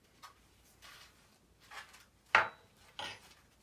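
Homemade glitter slime being mixed by hand, giving a few sparse, faint sticky squelches and clicks spaced about half a second apart in a quiet room, with no talk.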